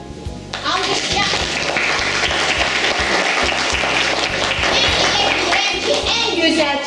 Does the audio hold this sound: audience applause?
yes